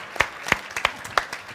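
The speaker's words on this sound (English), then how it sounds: "Can we get an applause for her?" A handful of sharp, separate claps ring out at a CES product presentation, roughly evenly spaced, sparse and close rather than a full crowd ovation.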